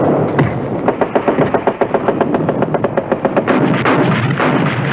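Infantry weapons fire in an army training film: rapid bursts of automatic gunfire crack in quick repeated volleys, loud and close, with no voices over it.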